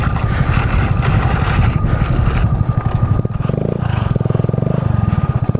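A Honda Pop 110 motorcycle with a new aftermarket exhaust runs close by, its rapid, buzzy pulsing shifting to a steadier throb partway through, with wind buffeting the microphone.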